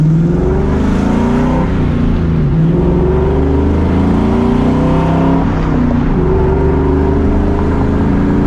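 Loud, steady V8 rumble from a 2004 Ford Mustang GT with shorty headers, modified exhaust and a slight exhaust leak, heard from inside while driving, rising and falling with gear changes and throttle.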